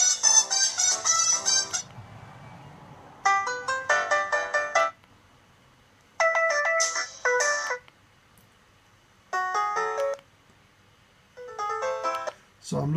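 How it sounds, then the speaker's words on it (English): Ringtones on a Doro PhoneEasy 615 mobile phone are tried out one after another: five short melodic chiming snippets, each lasting one to two seconds, separated by brief quiet gaps and played fairly close. "And to choose a different ringtone, we just try them out."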